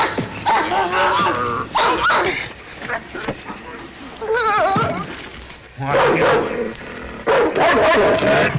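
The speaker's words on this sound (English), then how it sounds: "Why were you beating that dog?" A dog barks, yelps and whimpers in bursts close by in a 1950s radio drama set in the Yukon, mixed with other loud sounds.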